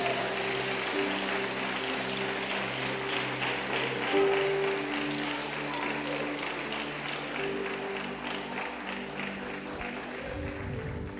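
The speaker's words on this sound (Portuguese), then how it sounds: "Se é para aplaudir o Senhor, aplauda com vontade." A church congregation claps steadily throughout, a dense continuous patter with sustained musical tones underneath.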